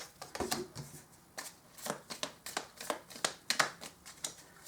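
Oracle cards being shuffled by hand in a steady series of crisp riffling bursts, close and fairly quiet, with no one talking.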